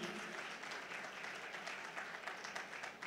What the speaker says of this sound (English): Please, a round of applause for Miss Sheung Awodiji.